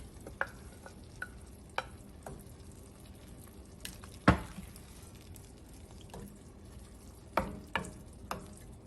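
Vegan spaghetti sauce with garlic, cardamom, parsley and oregano simmering in a pot: a soft, low bubbling hiss broken by occasional clear utensil clinks and one louder knock, no voices.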